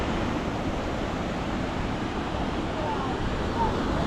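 Ocean surf at a beach near Newcastle, Australia rolls as a constant broadband wash of breaking waves, loud and steady, with wind noise on the microphone and no talk.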